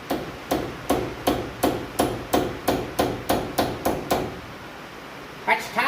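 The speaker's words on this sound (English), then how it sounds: "We'll beat on the snap-on ratchet, or snap-on wrench." A hammer beats on a Snap-on wrench during a 1967 Shelby 8.8 rear end rebuild, about a dozen evenly spaced metallic blows in a steady rhythm, loud and close, followed by a brief rattle.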